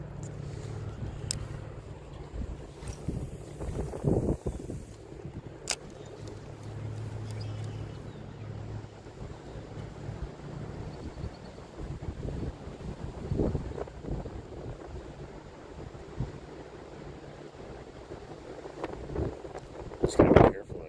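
Strong, gusty wind buffets the microphone while fishing by the water, with low rumbling surges that rise and fall over about twenty seconds and a voice talking intermittently.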